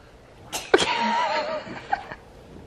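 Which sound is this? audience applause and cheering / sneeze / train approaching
sneeze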